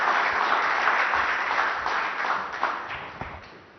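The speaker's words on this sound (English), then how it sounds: "a huge round of applause for our speaker, Hardeep Singh Puri" Sustained audience applause for Union Minister Hardeep Singh Puri at the BT Mindrush 2024 conference, a dense, steady roar of many hands clapping that fades slightly toward the end, with no talking over it.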